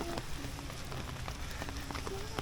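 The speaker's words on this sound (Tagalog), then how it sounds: "It's a bit raining now." Steady light rain falls outdoors, a dense continuous patter of drops on surfaces heard close, with a few louder individual drips and no voices.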